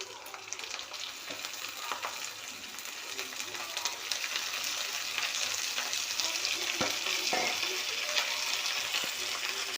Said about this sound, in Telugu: ఇప్పుడు మనం తీసుకున్నాం కదా హాఫ్ కేజీ చికెన్, దీన్ని ఇందులో వేసేసుకోవాలి